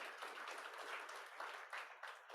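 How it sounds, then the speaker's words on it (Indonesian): A church congregation at a Sunday service claps together, a quiet but dense run of applause with slightly uneven bursts, heard from some distance. "Beri tepuk tangan buat Tuhan Yesus."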